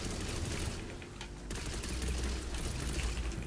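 Rapid, continuous gunfire in the video game Tiny Tina's Wonderlands, a dense fusillade of shots fired very quickly with no break, loud and steady throughout.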